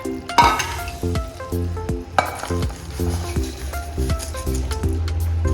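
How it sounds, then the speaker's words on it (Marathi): Boondi being stirred into sugar syrup for laddu, with repeated metallic clinks of a spoon against the pan at a steady stirring rhythm, close and fairly loud. "मी हे सगळं बुंदी मिसळून घेते"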